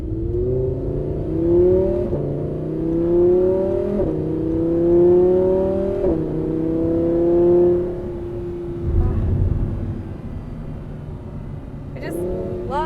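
An Audi R8 Performance supercar accelerates hard, its engine note climbing in repeated revving sweeps and dropping sharply at each quick gear shift. It is heard from inside the cabin, with a voice exclaiming briefly near the end.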